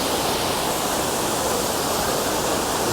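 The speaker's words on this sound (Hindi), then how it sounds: "शोर सुने ज़रा इसका। ये अपने आप में एक संगीत, एक मौसीकी है। और इस पहाड़ से ये नीचे आता है जी पानी" Mountain waterfall stream near Manali rushing under a small bridge, a dense, unbroken roar of falling water, loud and close, filling the whole moment with no voices.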